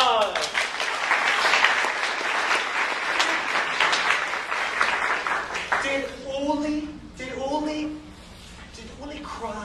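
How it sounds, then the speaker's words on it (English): Classroom applause from a group of students, a dense burst of clapping that fades out about two-thirds of the way through, followed by a voice speaking once the clapping dies down. "Give them applause."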